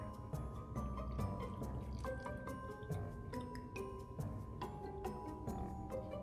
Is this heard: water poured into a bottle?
yes